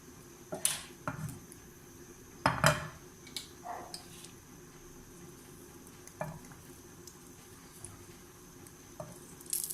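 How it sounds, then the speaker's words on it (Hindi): Garlic frying in hot oil for a potato puri and paratha breakfast, heard as a faint steady sizzle under scattered clinks and stirring scrapes of a utensil against the pan, with no talking. "इसमें मैं ये लहसुन पहले फ्राई करके इसको मैं निकाल दूंगी।"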